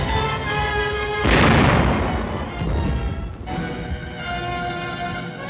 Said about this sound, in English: By direct fire, trained armored force gunners clear obstacles for their infantry teammates.